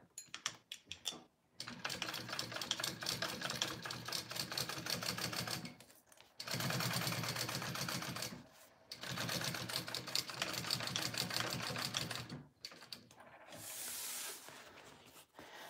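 A sewing machine stitches a canvas tote bag in several long runs, each a few seconds of fast, steady whirring separated by short pauses, close and clear with no talking.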